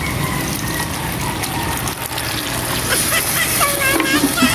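About a gallon of water pours into a pot of chicken biryani, a loud continuous gushing and splashing that swells slightly toward the end, with a voice talking over it.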